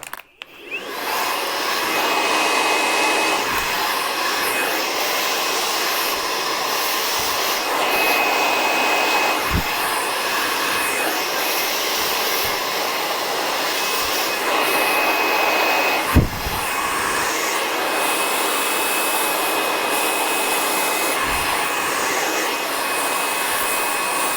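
A hair dryer roars continuously at close range while hair is blow-dried with a brush under tension, its nozzle held very near. The steady blowing runs throughout with faint brush thumps and no talking.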